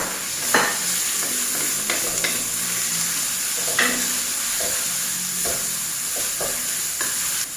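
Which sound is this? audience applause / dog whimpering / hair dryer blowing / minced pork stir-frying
minced pork stir-frying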